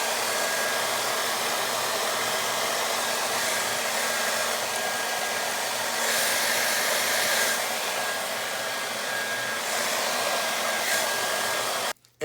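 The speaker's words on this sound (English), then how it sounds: "we definitely have to use the heat from the hair dryer" A hair dryer on high heat drying a beard, blowing with a steady loud whoosh throughout and slight swells as the airflow shifts, then cutting off abruptly at the very end.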